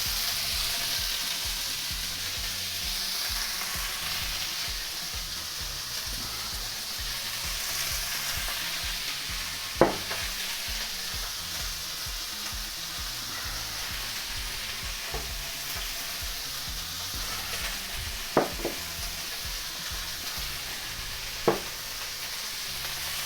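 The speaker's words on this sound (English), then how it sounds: "So I'm gonna leave the pork like that for 10 seconds." Pork sizzles steadily in a wok for Shanghai lo mein, a continuous close frying hiss with a few sharp spatula clicks scattered through, no voices.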